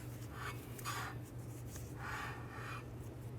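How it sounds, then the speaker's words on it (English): Rear parking brake shoes on a 2015-2019 Hyundai Sonata dragging lightly inside the rotor as it turns: two soft scraping sweeps, close but faint, over a steady low hum. "until we hear a little bit of drag on our parking brake shoes"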